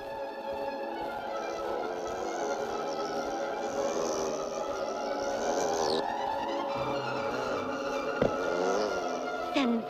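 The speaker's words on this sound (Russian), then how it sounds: "Этот шмель ведет себя так, как будто бы его укусила оса." A cartoon bumblebee buzzes continuously in an animated 1986 film, a loud, close, wavering drone that bends in pitch as it flits about, with a couple of brief sharp effects near the end.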